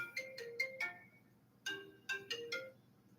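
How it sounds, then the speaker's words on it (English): A cell phone ringtone plays two short bursts of bright repeated electronic chirps separated by a pause, fairly faint and heard alone without talk. "Yeah, that was my phone going off."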